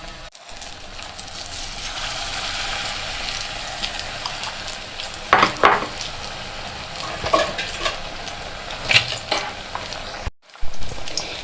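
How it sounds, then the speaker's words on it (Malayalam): Egg bajji deep frying in hot oil on low flame, a steady close sizzle and crackle with occasional stirring scrapes and clinks, running continuously with a brief dropout near the end. "നല്ലവണ്ണം ചൂടായ എണ്ണ കുറച്ച് തീ കുറച്ചിട്ട് വേണം മുട്ട അങ്ങോട്ട് ഇടാനായിട്ട്"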